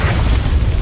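Confringo spell in Hogwarts Legacy goes off as a loud, close, booming blast with a heavy low rumble, filling a brief moment with no voices.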